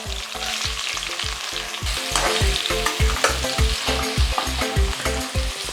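Onion, curry leaves and green chillies frying in a pan with cumin, a close, busy sizzle cut by rhythmic scraping stirs at a quick, even pace, with no voices.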